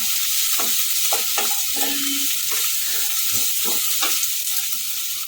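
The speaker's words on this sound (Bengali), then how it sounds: "যতক্ষণ না ব্রাউন কালার আসছে ততক্ষণ আমি এগুলো ভাজবো" Spices frying in a hot pan with a steady sizzle, while a spoon stirs and scrapes the pan in repeated close strokes.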